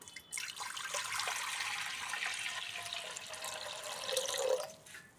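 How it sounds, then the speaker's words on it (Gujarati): Water pours from a vessel into a pressure cooker set on a lit stove for pav bhaji, a steady close splashing rush lasting several seconds before trickling off at the end, with no talking. "આપણે નાખી દઈશું સૌથી પહેલાં પાણી"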